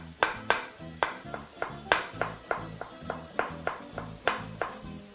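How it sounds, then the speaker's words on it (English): A knife chops a small red onion on a cutting board, about a dozen crisp, sharp taps in a quick, slightly uneven rhythm, close and clear with no talking. "we're just going to add also one small red onion. So I'm just going to quickly chop this up"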